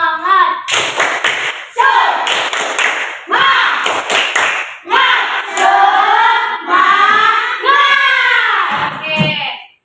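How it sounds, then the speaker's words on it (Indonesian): A class of students performs a rhythmic 'tepuk semangat' clap chant: quick bursts of claps alternate with loud chanted voices at close range. "Ayo, Bang David pimpin tepuk semangatnya."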